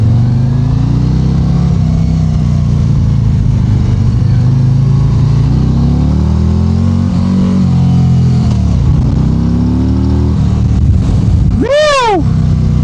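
A 2025 Harley-Davidson Road Glide fitted with Tallboy bars and 10-inch risers, heard while riding: a loud, steady engine rumble under wind noise, with revs gently rising and falling, and a brief high sweeping tone near the end.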